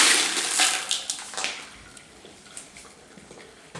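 Water splashes and trickles over polished tumbled rocks during a quick rinse after tumbling with ceramic media, with a loud wet burst at the start and lighter intermittent splashes and clinks afterward, no talking.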